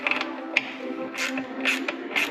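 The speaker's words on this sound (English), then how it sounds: "he's just removing the one bolt down here" A ratchet turns out a single bolt low on the exhaust side of a motorcycle near the footpeg, with short bursts of clicking pawl strokes, close and moderately loud, over a faint background hum.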